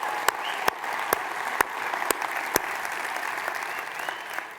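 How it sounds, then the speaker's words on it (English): A theater audience at a radio station's 100th anniversary celebration at the Halton Theater applauds steadily, dense clapping with a few sharp, louder claps standing out, sustained throughout with no speech. "That deserves a round of applause."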